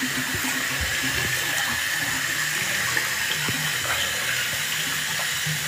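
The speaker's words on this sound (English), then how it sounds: "Let's go just to the shower." Shower water runs steadily, a constant close hiss of spray with occasional faint knocks and splashes and no talking.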